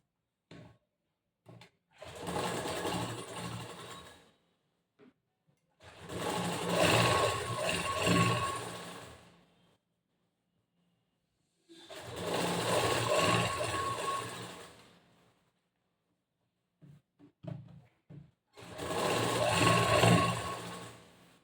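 Sewing machine stitching the back part of a blouse, four separate bursts of steady whirring stitching separated by quiet pauses, close and moderately loud.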